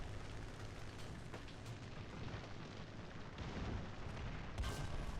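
Muffled, rumbling tank cannon and machine gun fire in War Thunder gameplay, a dense, continuous wash of low booms with a louder burst near the end.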